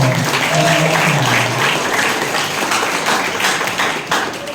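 Applause from an audience at a school film event in Batam, a dense, steady wash of clapping lasting throughout at fairly loud level, with a faint voice at the start.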